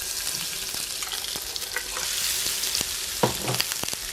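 Minced fish cakes sizzling in a hot pan, a continuous crackling fry with scattered pops and spatters, close and fairly loud.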